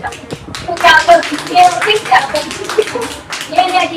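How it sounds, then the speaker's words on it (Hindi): Children clapping for girls at a mango party with games, loud irregular bursts of hand claps close by, mixed with children's voices and chatter. "लड़कियों के लिए जोरदार तालियां"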